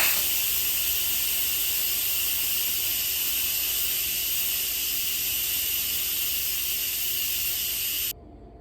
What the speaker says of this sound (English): so let's quick release the steam.